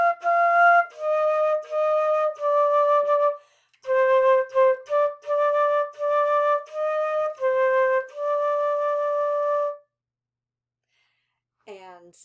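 Flute plays lesson line 56C, a short melody of clear sustained notes separated by brief breaths, close and alone, followed by silence and a brief voice at the end.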